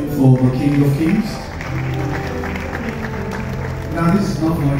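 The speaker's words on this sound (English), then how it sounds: "Keep the applause going for the King of Kings." A congregation at a memorial service for a gospel singer applauds in a steady, mid-level wash of clapping, with someone speaking over it throughout.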